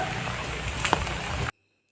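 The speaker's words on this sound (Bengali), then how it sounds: "দেখো কি বৃষ্টি হচ্ছে" Rain falls outdoors on a visit to Jagannath's Mashi Bari in Mayapur. A steady, close hiss of rainfall lasts about a second and a half, then stops abruptly into silence.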